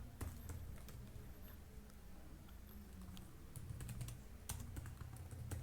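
Fingers type on a computer keyboard in quick, irregular bursts of clicky keystrokes, close and fairly quiet over a low background hum.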